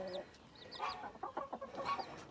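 A hen clucks softly with her chicks in a backyard coop, a few low clucks and brief higher peeps scattered irregularly, fairly close and moderately quiet.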